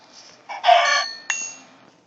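A chicken in a survival video game gives a few short, clear clucks, close and alone over near silence.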